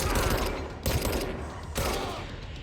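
Rapid bursts of gunfire in the video game Control, three dense volleys of automatic shots in quick succession at moderate level.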